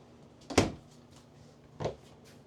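Two cabinet doors in a travel trailer, a 2026 Grand Design Transcend Xplor 27DBX, open with short wooden clunks about a second apart, close by in a quiet interior.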